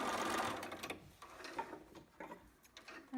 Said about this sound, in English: just going to back stitch there